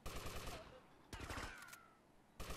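Gunfire in GTA Vice City, with sharp bursts of shots at the start and near the end and another burst around the middle, set against game noise and a voice talking.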